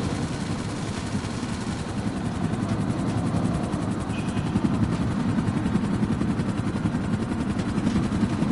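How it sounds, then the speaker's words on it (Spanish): A helicopter in the video game GTA 5 drones steadily throughout, its rotor chop a fast, even low-pitched thrum at constant loudness with no pauses and no voices. "Pero estoy cargando el helicóptero."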